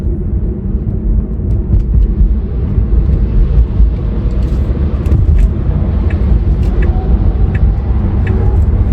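Steady low road rumble from a 2019 Skoda Kodiaq 2.0 driving on the road, heard from inside the car as a constant, fairly loud drone with faint ticks above it and no talk.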